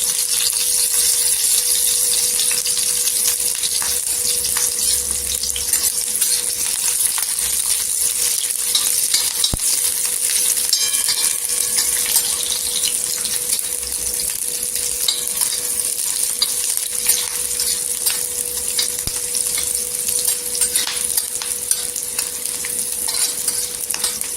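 Chili and garlic for okra thecha sizzle steadily in hot frying oil with occasional stirring, a loud, continuous close-up crackle that persists without a break and without any talk.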